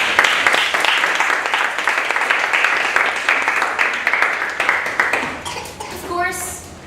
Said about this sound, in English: Please give a resounding round of applause.